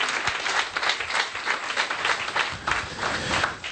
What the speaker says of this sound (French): Applaudissez-moi la bonne nouvelle.